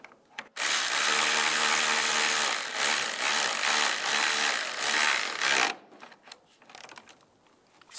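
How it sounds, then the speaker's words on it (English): A power tool drives a bolt tight on a 1999-2005 Volkswagen Jetta timing belt component kit. One loud, steady whirring burst lasts about five seconds, followed by quieter clinks and shuffling. "Now put the bolt back in, line that up. And tighten it down."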